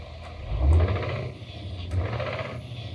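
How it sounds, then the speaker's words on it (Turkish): A simulated 500-horsepower six-cylinder truck engine with an open-pipe exhaust in Euro Truck Simulator 2: a deep, throaty rumble that swells twice as it revs, steady and close with no talking. "Şimdi 6 silindirlisinin sesini sizlere dinletmek istiyorum."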